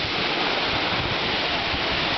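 A waterfall roars as a steady, even wash of falling water, loud and continuous with no break and no voices.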